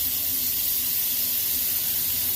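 Pancake batter sizzling on a very hot skillet, a steady broadband hiss that stays even and close throughout, with no voices.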